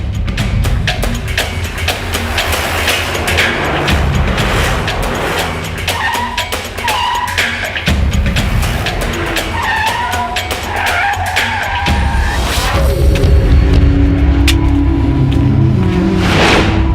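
A car pulls away with loud, sustained tire squeals and skidding, engine revving hard close by, the screeching shifting in pitch over several seconds with no talk.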